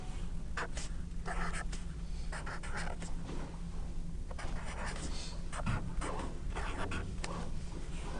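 Pen or marker strokes scratching out numbers on a surface, a series of short scribbles with pauses in between, set against a steady hiss of background noise and with no talking.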